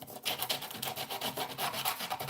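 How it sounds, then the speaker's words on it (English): Hand sanding scuffs a piece in rapid, steady rasping strokes, loud and close with a rhythmic rubbing pulse throughout and no voices. "When I'm done with the sanding part, what I do"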